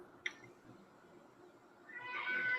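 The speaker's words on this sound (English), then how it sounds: "My cat's going nuts, so never mind him." A cat meows in a room, with one short, sharp cry followed by a longer, rising, strained meow that builds loudly near the end, heard alone with no talk.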